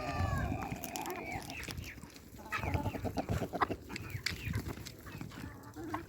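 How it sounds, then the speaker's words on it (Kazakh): Kazakh and blue chickens cluck on a farm, a flock producing repeated overlapping clucks and squawks at close range over steady barnyard noise. "Қазақ тауықтары бар. Көк тауықтар."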